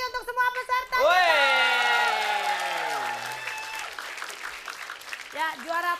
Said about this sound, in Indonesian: kita kasih tepuk tangan sekali lagi untuk semua peserta